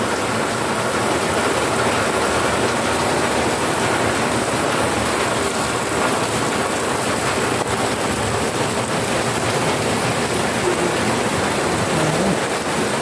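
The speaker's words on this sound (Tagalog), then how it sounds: "Ang lakas ng ulan guys." Heavy typhoon rain from Typhoon Carina pours down in a dense, steady roar that holds constant throughout, with no voices.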